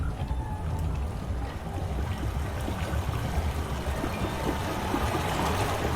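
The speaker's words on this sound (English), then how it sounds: "Well, I hear the water coming from the sea." Flowing water in Myst (2021), in the Channelwood Age among tree-dweller walkways, a soft continuous trickling and rushing that holds steady throughout with no talking.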